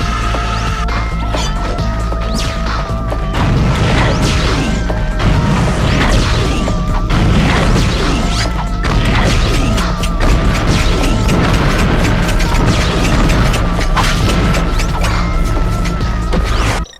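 Missiles launch and explode during Ratchet and Clank gameplay: a dense, continuous barrage of loud booms, crashes and whooshing blasts over a steady game music and effects bed, with no talk.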